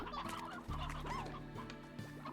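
Hens cluck in the video game Slime Rancher, several short clucks and squawks over a steady game background with music-like tones, close and moderately loud.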